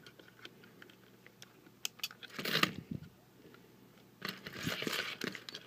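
A tight joint ratchet on a Unique Toys UT-W03 Savagebull transforming robot toy gives faint, scattered sharp clicks, with a couple of louder handling bursts of rustling and clicking.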